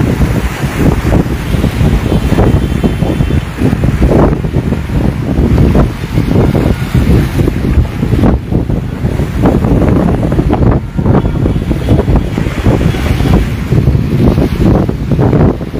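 Rough sea waves surge and crash around an anchored boat as strong wind buffets the microphone, a loud, constant roar with repeated swells breaking close by.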